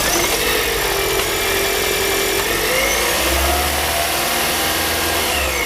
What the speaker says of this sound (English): now we'll have a listen to the engine